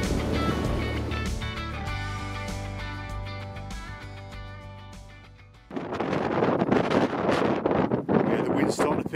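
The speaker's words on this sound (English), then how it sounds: "Yeah, the wind's starting to pick up now." Wind picking up on a hike in Devon, buffeting the microphone with a loud rushing roar that grows stronger and gustier in the second half, with tonal background sounds earlier.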